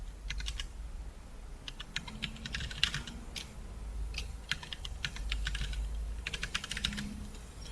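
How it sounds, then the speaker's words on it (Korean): A password is tapped out on a computer keyboard. Crisp, nearby keystrokes come in several short bursts separated by brief pauses, with no talking over them. "비밀번호를 치면 됩니다."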